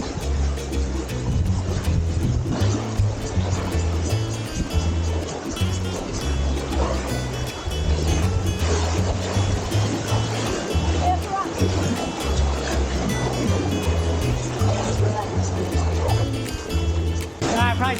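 Loud, continuous rushing of river water during a raft crossing, with steady broadband noise and low thumping underneath that lasts throughout.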